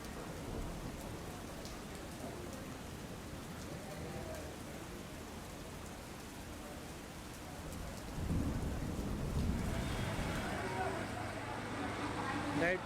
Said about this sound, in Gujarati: મહેસાણામાં વહેલી સવારથી વરસાદ વરસી રહ્યો છે